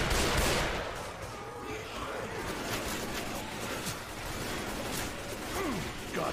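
Gunfire rattles through a Left 4 Dead 2 campaign, scattered shots and bursts at moderate volume mixed with mechanical clatter and whooshing game effects, with no voices over it.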